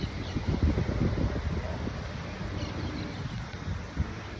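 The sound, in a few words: breeze blowing outdoors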